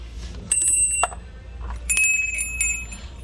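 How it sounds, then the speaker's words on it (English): Small metal service bells at a flea market struck several times, bright ringing dings with lingering tones, some overlapping, close by. "I like these little service bells."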